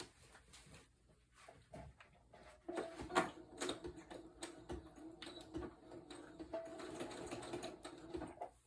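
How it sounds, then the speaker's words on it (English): A sewing machine stitches lace and paper ephemera onto a grungy file-folder journal, running in short bursts and then a longer steady whir of rapid needle clatter, close up with no talking. "And I'm going to run that to my sewing machine."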